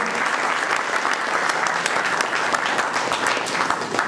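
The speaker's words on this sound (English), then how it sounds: "Let's give Brother Bobby another big round of applause." Sustained applause from an audience inside a mosque, dense and steady clapping filling the room at close range for the whole stretch without letup.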